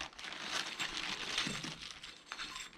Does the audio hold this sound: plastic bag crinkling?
yes